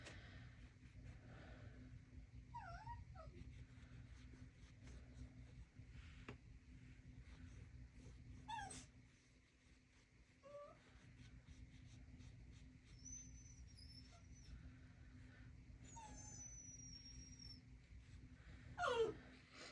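Soft, high whimpers and whines from a dog wanting to go out come in scattered short bursts over a low background hum, faint and close by.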